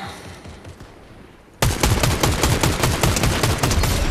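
Rapid automatic gunfire erupts in a Fortnite match: after a quieter stretch, a loud, close burst of dense shots rattles on continuously.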